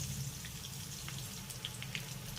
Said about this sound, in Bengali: এবার আদা রসুনটাকে আমি তেলের সঙ্গে একটু ভেজে নেব